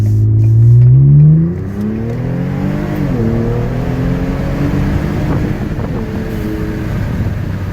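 A 2015 Ford Police Interceptor sedan with the 3.5 EcoBoost engine accelerating, its engine note climbing loudly, dropping at a gear shift and then rising again under steady wind rush, close and with no talk.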